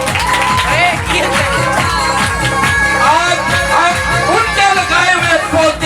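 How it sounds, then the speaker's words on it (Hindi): Loud applause and cheering from a crowd at a Christmas church event honouring Bishop Suleman, with whoops and excited shouting over rhythmic music, all close and energetic from start to finish. "बिशप सुलेमान साहब के लिए जोरदार तालियां।"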